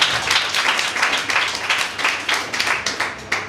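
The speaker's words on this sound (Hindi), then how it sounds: "तो आप उनके लिए भी एक जोरदार तालियां दें।" Enthusiastic audience applause for a poet at an Independence Day cultural programme, a dense wash of many hands clapping steadily for several seconds with no voices on top.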